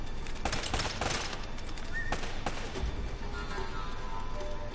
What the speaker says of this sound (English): Y'all shooting at me through the gates